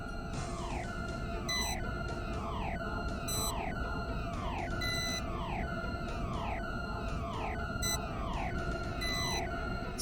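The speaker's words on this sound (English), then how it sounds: "That was the reactor beeping" Reactor alarm in the Mission Critical video game, a repeating electronic warning of sweeping, falling tones roughly every second, layered with steady high beeps over a constant low hum, loud and continuous with no talking.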